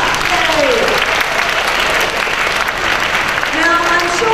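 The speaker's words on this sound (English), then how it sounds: "Please give them a big clap." A school audience claps for Form 3 teams from a Teenage MasterChef macaron competition, a loud, steady burst of applause with brief voices calling out over it.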